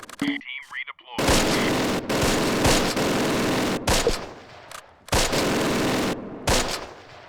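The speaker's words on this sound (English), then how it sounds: "It looks like they're shooting at these guys right here" Gunfire crackles through a Close Combat World War II strategy battle: dense bursts of rifle and machine-gun shots in loud, choppy volleys separated by brief gaps, with a short voice heard at the start.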